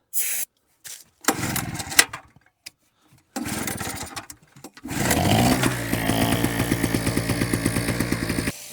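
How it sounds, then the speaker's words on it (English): A struggling generator sputters and cuts out in short bursts with gaps of silence, then catches and runs with a rough, pulsing, uneven throb, loud and close. "That generator is barely running."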